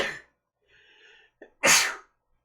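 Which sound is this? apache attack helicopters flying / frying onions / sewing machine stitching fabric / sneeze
sneeze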